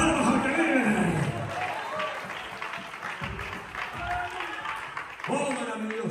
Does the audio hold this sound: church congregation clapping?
yes